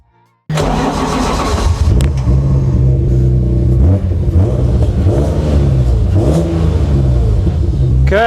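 A garage-built BMW E36 fires up on track and revs, its engine roaring loud and near, the pitch rising and falling repeatedly as the throttle is blipped while the tires warm up.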